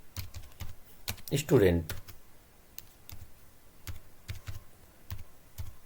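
Keys clicking on a computer keyboard during an HTML coding lesson, a sparse irregular string of soft taps around a brief spoken word.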